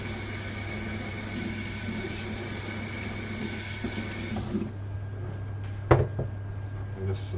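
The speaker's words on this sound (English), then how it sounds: "I just remove the seeds, wash the chilies." Running tap water splashes over chilies held under the faucet while they are washed, a steady close hiss for several seconds that stops abruptly, followed by a brief clatter and a quieter kitchen background.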